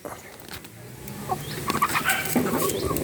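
Rhode Island chickens, mostly roosters, clucking and calling in short bursts nearby, with faint background farmyard noise.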